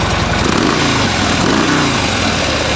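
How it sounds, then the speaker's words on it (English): A 2013 Harley-Davidson Road King Police (FLHRP) motorcycle engine idles up close, a loud, steady, throbbing rumble with a slightly uneven pulse and no voices over it. "Motor sounds real good."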